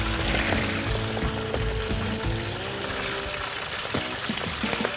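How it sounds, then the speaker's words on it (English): Bacon-wrapped bratwursts deep frying in hot oil: a dense, continuous bubbling sizzle with crackles and pops, steady and close throughout. "It's time to deep fry our brats wrapped in bacon."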